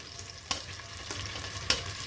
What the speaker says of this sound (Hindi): जो मैंने आपको प्याज दिखाया था ये डाल के इसको फ्राई करने लगी हूँ